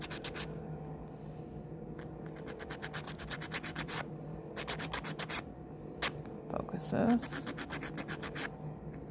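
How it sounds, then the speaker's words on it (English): A fingernail is filed with a hard 100 grit nail file in short, quiet, rapid rasping bursts with pauses between them, close up, and a few faint words are spoken. "it's a 100 grit file if anybody is wondering"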